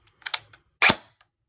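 Matrix Calico Jack M4 airsoft gun with programmable burst, giving a few quick snapping clicks followed by one louder sharp crack, close and dry.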